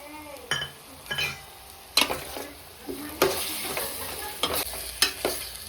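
Tomato frying with masala for a chicken curry, a bright sizzle broken by repeated loud scraping strokes of a ladle against the pan, roughly one every second, close and without voices.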